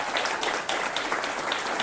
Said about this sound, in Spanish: ¡Un aplauso para Pilar!